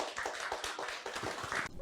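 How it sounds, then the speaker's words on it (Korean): Seminar attendees give soft, continuous applause for a tax accountant after his lecture on year-end tax strategy for CEOs; the clapping is faint and even, with a brief rise just before it stops. "다시 한번 우리 일부 강의 도와주신 조만수 세무사님께 큰 박수 부탁드리겠습니다."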